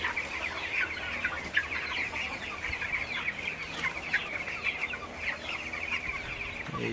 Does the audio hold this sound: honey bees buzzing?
no